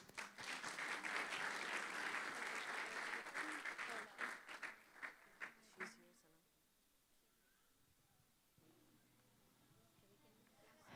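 A church audience applauds loudly at a Sunday school Christmas celebration, a dense sustained clapping that tapers into a few scattered claps and then fades to quiet room tone.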